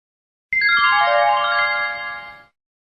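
A single electronic telephone ringing tone on a coin payphone call sounds for about two seconds, steady and clear, then fades out into silence.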